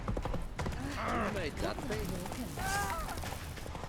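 Roach the horse galloping in The Witcher 3: steady clip-clop of hooves under game sound and a voice talking, close and continuous.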